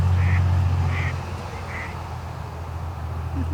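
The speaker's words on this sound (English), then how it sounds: "let's get some little duck" Ducks and geese at a lake on an overcast day, a few spaced nasal quacks over a low rumbling background hum, fairly faint and distant.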